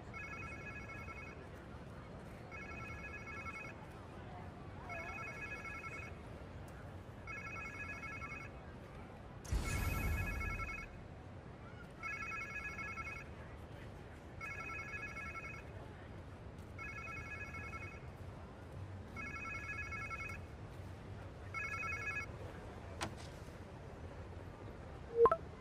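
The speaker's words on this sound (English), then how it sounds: "Sounds like somebody's phone." A telephone rings repeatedly in Marvel's Spider-Man 2, about ten evenly spaced electronic trills running steadily over a low ambient background, with one brief louder burst partway through.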